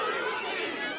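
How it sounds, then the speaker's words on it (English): Crowd noise at a men's senior reserves rugby final between Te Teko and Paroa in Eastern Bay of Plenty, a brief, dense steady roar of many voices filling the whole second. "You can hear the intensity of the crowd."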